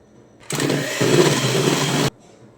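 An electric beater whirs steadily through plum cake batter with milk and rum for about a second and a half, starting and stopping abruptly, close and loud, with no talking.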